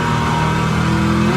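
Stielow Engineering Red Devil Camaro race car engine braking through downshifts on a circuit, a steady loud engine drone with rising harmonic tones across the short burst, no voices.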